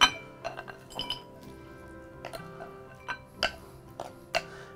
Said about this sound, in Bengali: আমরা একটা পরিবেশন পাত্র নিয়েছি, এখানে পুরোটা এখানে ঢেলে দিব।